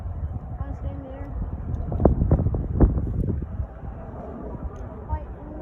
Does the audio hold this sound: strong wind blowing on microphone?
yes